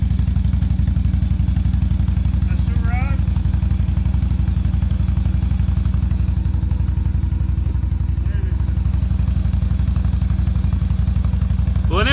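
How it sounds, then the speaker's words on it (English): A four-wheeler's engine drones steadily as the quad slides down a hill on a work trail, a constant mid-range rumble heard at a distance while someone talks over it. "you can watch as the four-wheeler goes off the hill how bad it slides"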